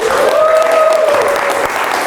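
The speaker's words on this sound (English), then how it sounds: "Give him a round of applause." Audience applause for a volunteer, a short burst of steady clapping close by with a brief whistle or cheer riding over it.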